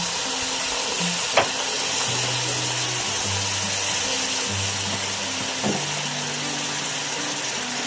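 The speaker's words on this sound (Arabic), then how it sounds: "هنكرمل السكر ده، هنكرمل السكر بتاعنا" Sugar caramelizing with water in a hot pan for tomato sauce sizzles and bubbles steadily, a constant hiss with a couple of faint clinks, while music plays underneath.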